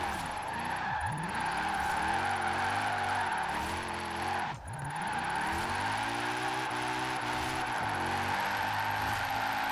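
A Mercedes SLS AMG drifting in Forza Horizon 4, its engine droning loud and steady with gear shifts and revving sweeps, plus a constant tire squeal and a brief dip near the middle.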